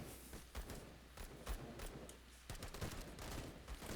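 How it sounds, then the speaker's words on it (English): Rapid, continuous gunfire from a tank battle in Call To Arms, dense cracking shots and thuds at irregular intervals, fairly faint and distant-sounding with no talk. "They're still just firing away here."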